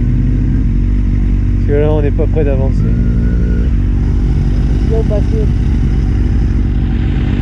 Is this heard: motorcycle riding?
yes